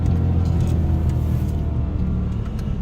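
A BMW M3 E90 with its naturally aspirated engine driving on the road, heard as a loud, steady low engine drone and rumble from inside the car, with no talk.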